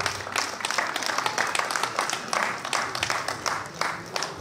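Dense, steady applause from a crowd at a surprise birthday party in Lyon. Many hands clap together close by for the whole stretch, with faint voices mixed underneath.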